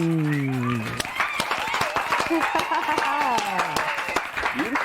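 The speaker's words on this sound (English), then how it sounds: "With a round of applause, let's welcome our guest, Jnr and Akua of Deco Craft" A studio audience claps to welcome guests onto a show, with scattered distinct hand claps and cheering while a host talks over it and music fades out at the start.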